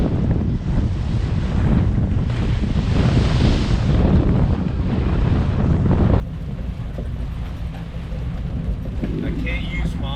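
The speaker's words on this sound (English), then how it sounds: "Splashing up on the isinglass right in front of me." Rough seas splash repeatedly against the isinglass window of a boat's enclosure, a heavy rushing wash mixed with wind buffeting the microphone, loud and close, easing to a quieter steady roar partway through.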